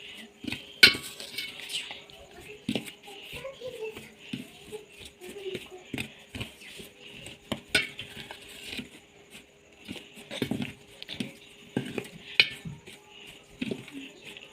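A spoon mixes spice masala in a bowl for a stuffed red chilli pickle, making irregular clinks, taps and scrapes against the bowl that sound close and fairly quiet. There is no talking.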